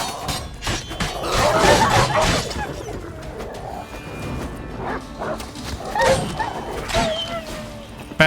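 Dog barking and whimpering in The Witcher 3: Blood and Wine, repeated loud close barks and yelps amid combat clatter and game sounds, with brief voices.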